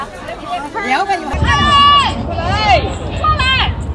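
Lively crowd chatter in China surrounding a Black woman, many overlapping voices and excited calls close by, swelling louder midway and staying busy throughout.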